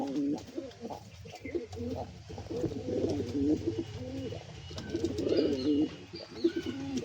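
Fancy pigeons fighting over breeding coo repeatedly in low, rolling bursts close by, with soft scuffling and a faint voice in the background.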